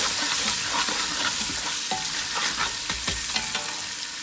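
Nigella seeds, turmeric, crushed and red chilli, and fennel frying in oil for chana, a dense close sizzle with scraping stirs throughout, steady and loud, no voices.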